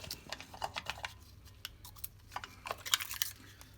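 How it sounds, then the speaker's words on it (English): A brush scrubs inside a drink dispenser nozzle in warm soapy water, giving irregular close-up scratchy bursts and small clicks with brief pauses between strokes. "and just clean out with the brush."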